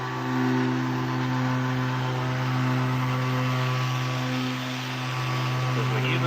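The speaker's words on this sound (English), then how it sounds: "Sander is moving my hand. My hand is not moving the sander." An electric sander runs continuously during wet sanding and polishing of a lacquer finish, giving a steady, close, tonal whine and hum with slight swells, and a person's voice is faintly present under it.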